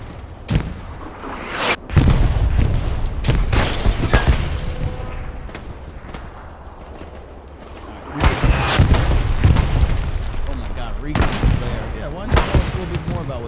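Heavy artillery explosions in a competitive multiplayer war video game, several loud booming blasts with sharp onsets and rumbling tails, bunched in two bursts with lighter gunfire cracks between.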